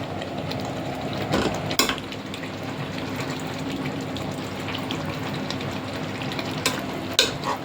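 Chicken and masala roasting in a pan for Andhra-style biryani, a loud continuous sizzle with occasional spatula scrapes and clinks of metal on the pan, without speech.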